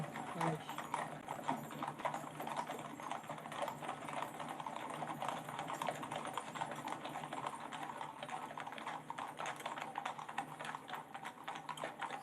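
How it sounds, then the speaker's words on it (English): Many horses' hooves clip-clop in a brisk, continuous rhythm on a hard road as they pull a gun carriage in a royal funeral procession in London, with faint voices murmuring in the background. "Steps of the horses."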